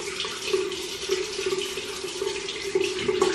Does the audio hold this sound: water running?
yes